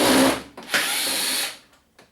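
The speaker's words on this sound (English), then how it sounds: "if for some reason you didn't have an electric screwdriver" An electric screwdriver whirs loudly and close while backing screws out of a Toshiba plasma TV, one sustained run that briefly dips and restarts, then winds down into near silence with a faint final blip.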